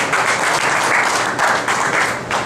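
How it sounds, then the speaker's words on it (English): Steady applause from an audience, many hands clapping in a continuous wash that swells slightly a few times. "Yeah, it deserves applause."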